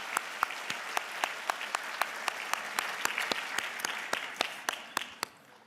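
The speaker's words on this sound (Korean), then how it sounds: "우리 어른들이 축복의 박수를 한번 보내도록 하겠습니다." A church congregation claps for children at a Christmas service, a full, even round of applause with individual claps standing out, fading near the end.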